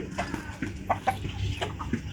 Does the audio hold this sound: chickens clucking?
yes